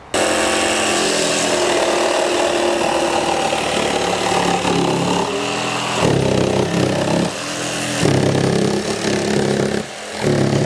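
A Makita 40V jigsaw cuts through timber with orbital oscillation switched off, giving a loud, steady buzzing rasp that holds through most of the cut and wavers briefly near the end.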